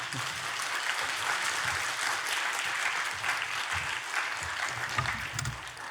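Steady applause from a church congregation fills the room during a Wednesday worship service, dense clapping holding at an even level throughout without a break.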